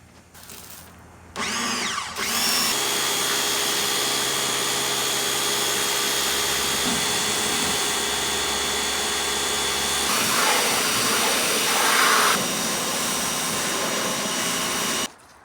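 A Mustang car being power washed, a loud steady rushing spray with a whining pump that holds for most of the run, swelling briefly near the end before cutting off.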